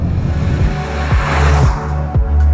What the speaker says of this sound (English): You can hear that turbo spool up, and as soon as I take my foot off the gas, you can hear that wastegate.